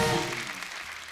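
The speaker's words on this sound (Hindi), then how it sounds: "एक बार जोरदार तालियां हो जाए हमारे मेहमानों के लिए" A television comedy show's studio audience applauds its celebrity guests, a brief burst of clapping that starts full and quickly tapers off, with a musical tone ringing underneath.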